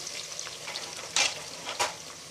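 Onions fry in hot oil in a pan for a vegetable kuzhambu, a steady crackling sizzle with a couple of sharper bursts as they are stirred, and no voices.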